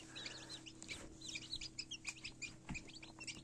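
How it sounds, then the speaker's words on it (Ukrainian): Newly hatched chicks cheep and peep in quick, high bursts under a heat lamp, over a steady low electrical hum, fairly faint and close. "Це такі блекаутні курчатка, які вилупилися"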